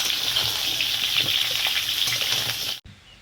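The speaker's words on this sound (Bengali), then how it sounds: "তো এবার মা সুন্দরভাবে আমগুলো ভেজে নেবে" Mango pieces fry in a wok for a sweet-and-sour pickle, giving a steady close sizzle with small crackles and stirring scrapes that cuts off abruptly near the end.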